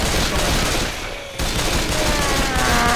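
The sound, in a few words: gunfire from a powerful gun in Left 4 Dead 2 video game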